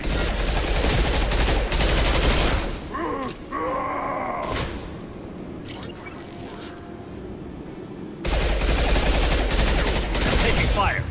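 Rapid automatic gunfire in a modded Mass Effect 2 battle, sustained dense bursts at the start and end with a quieter gap between, interrupted by grunts and brief combat voice lines.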